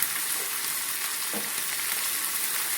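Snail (guguli) curry frying and being stirred in a pan, a steady soft sizzle with a single brief scrape of the spoon partway through, close and continuous with no talking.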